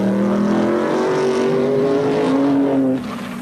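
A 1957 Vanwall Formula One car driven by Stirling Moss roars past the pits at the British Grand Prix, a loud, sustained engine drone whose pitch climbs steadily, then drops and fades slightly as the car moves away.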